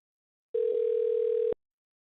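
A telephone dial tone sounds while a call to a scammer is being placed: one steady, loud tone lasting about a second, starting and stopping abruptly, with silence on either side.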